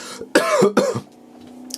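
Two sharp, harsh coughs in quick succession, close and loud, followed by a quieter low hum.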